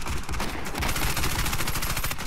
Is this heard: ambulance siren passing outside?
no